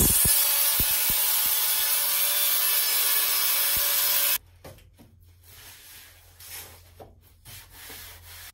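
A saw rasps steadily through a timber plank cut for a carvel-planked boat bulkhead, loud and close for several seconds, then stops abruptly, leaving only faint workshop knocks.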